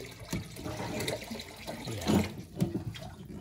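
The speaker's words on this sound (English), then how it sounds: "If I open up this valve, let's see if we get much water out." Water gushes out of an opened valve at the bottom of a tank holding washed abrasives, a steady, close rushing flow with splashy surges and no talking.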